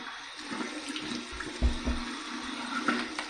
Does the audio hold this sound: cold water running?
yes